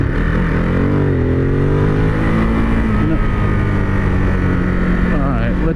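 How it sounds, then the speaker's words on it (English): A 2021 Ducati Monster 950 Plus in sport mode, its engine loud and close as it downshifts and engine-brakes toward a stoplight, the revs dropping and rising in steps under steady wind rush and a speaking voice. "let's see how the downshifting engine braking is"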